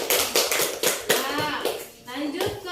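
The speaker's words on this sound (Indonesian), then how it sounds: "Tepuk tangan dong buat kelompok 1." Children in a classroom applaud a group of classmates with a short burst of hand clapping, dense at first and then thinning, while young voices chatter over it.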